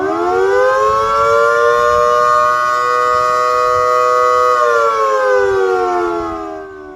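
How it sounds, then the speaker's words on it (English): An air raid siren wails a sustained, loud warning tone of an impending attack, holding steady for several seconds before sliding down in pitch and fading slightly at the end. "The sirens warning of an impending attack."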